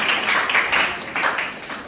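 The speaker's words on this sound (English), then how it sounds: "Clap for" Students at a school inter-house quiz competition clap together in a continuous, fairly loud round of applause with slightly pulsing rhythm, with no voices on top.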